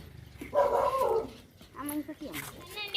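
A dog yelps and barks in a short, excited burst, then quieter whimpering yips follow, with a voice talking underneath.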